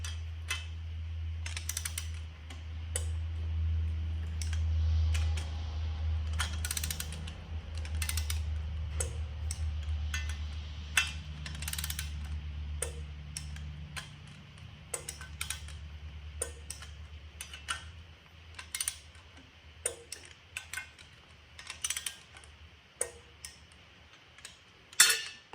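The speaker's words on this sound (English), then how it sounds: "So now we're gonna torque them. Got my torque wrench here." A torque wrench ratchets in a quick series of sharp, close clicks, now in short rhythmic bursts and now as isolated ticks, while tightening flywheel-to-crank bolts during a 46RH transmission swap on an E-body Cuda with a 360 engine.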